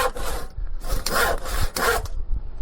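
A hand saw cuts a piece of wood to size with steady back-and-forth strokes, each rasping pass close and fairly loud, repeated about four times without pause.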